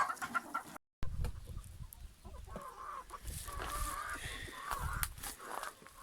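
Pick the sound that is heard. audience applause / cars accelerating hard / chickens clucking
chickens clucking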